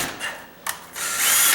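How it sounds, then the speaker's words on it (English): A power drill boring into hard wood whines in short bursts, straining as the pitch rises and falls, with a brief pause between runs; close and fairly loud. "Either my drill bit is dull or the wood is hard."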